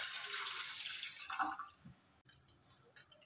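About two cups of water pour into a cooking pan for a children's immunity drink, a steady splashing rush for over a second that then tapers into quiet drips.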